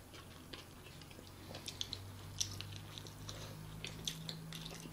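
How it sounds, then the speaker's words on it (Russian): Soft, wet chewing and biting from people eating a huge pizza at dinner, a quiet irregular patter of mouth sounds over a low background hum, with no talking. "Пиццу едим."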